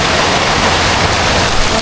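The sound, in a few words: rain falling on a farm field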